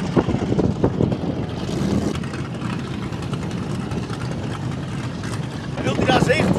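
Poker run motorboats idle and rumble at a refuelling station, a steady low engine drone with water and wind noise beneath several people talking close by.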